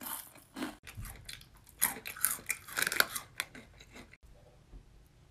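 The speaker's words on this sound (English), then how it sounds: "Who the fuck is chewing so loud?" Loud, close chewing with wet crunches and smacking bites in an irregular rhythm, running steadily for several seconds before briefly dropping out and then resuming more quietly.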